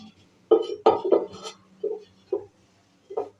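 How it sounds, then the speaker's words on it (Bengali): A flat iron griddle (chatu) set down on a gas stove, giving a quick run of close metallic clinks and knocks, then a few lighter, spaced taps. "গ্যাস ধরিয়ে একটা চাটু বসিয়ে দিচ্ছি"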